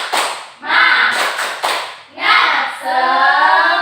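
A classroom of children doing the 'tepuk semangat' clapping chant, with rhythmic groups of sharp hand claps mixed with chanted voices in short bursts.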